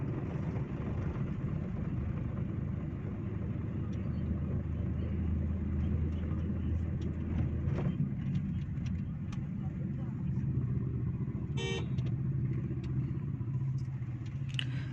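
Car with nearly 130,000 km on it, on a trial run after a carbon-cleaning engine injection, heard from inside as a steady low engine and road rumble, with a brief sharp click near the end.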